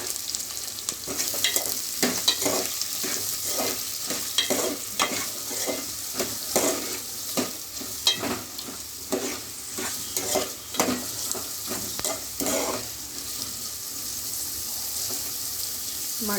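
Chopped onions and green chilies fry in hot oil as they are stirred, giving a bright continuous sizzle punctuated by repeated scraping strokes of the spoon against the pan.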